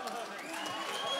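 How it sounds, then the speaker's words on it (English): A church congregation claps in praise after a healing, a brief burst of crowd applause with a voice speaking over it. "Give God another hand of applause."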